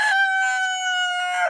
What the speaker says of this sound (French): Il y a 3 coqs dans cette volée-là.